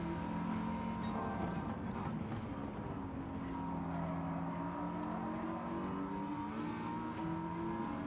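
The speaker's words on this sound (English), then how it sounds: "Some of these engines sound absolutely phenomenal. Listen to that drone, that howl." Engines drone and howl in Gran Turismo 7 as cars race at Sardegna Road A, a steady layered roar with shifting pitches as several cars run close together, loud and without speech.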